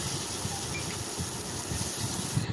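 Water poured into frying spices and onions in a pan while cooking Bengali katla fish curry, giving a steady, loud broadband sizzle and hiss that holds throughout with no pauses.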